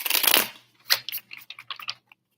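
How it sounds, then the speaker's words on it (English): Tarot cards being shuffled by hand, a dense papery riffle at first followed by a few lighter scattered flicks and taps, close and fairly quiet with no talking. "I'm going to shuffle while I'm waiting to hear."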